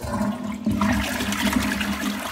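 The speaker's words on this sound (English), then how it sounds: "Flush it." A toilet flushes after a home repair, a loud continuous rush and gurgle of water that fills the whole short stretch, close by, with no voices.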